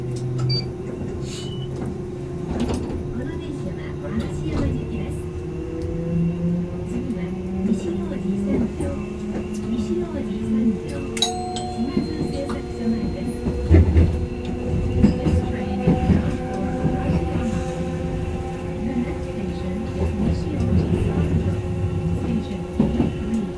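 Ride aboard the Randen, a scenic high-floor tram and light rail in Kyoto running to Arashiyama, with a steady rolling rumble, rhythmic wheel clatter over rail joints and occasional louder bumps, while voices and an onboard announcement are heard over it.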